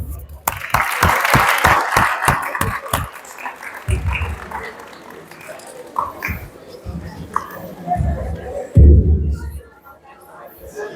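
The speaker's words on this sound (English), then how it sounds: "I want to clap my hands for you guys because you guys are the best." Hands clap in a quick burst at the start, then fade into scattered claps and rustling as a voice talks over the room.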